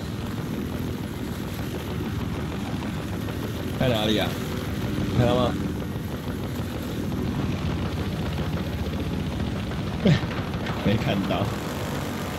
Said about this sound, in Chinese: 直升机后面有直升机。